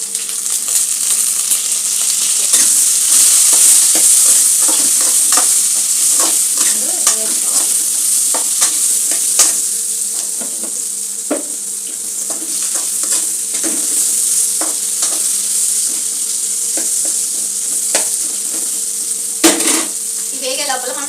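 Vegetables with turmeric fry in a pan under a loud, steady sizzle, punctuated by frequent clinks and scrapes of a spoon stirring against the metal.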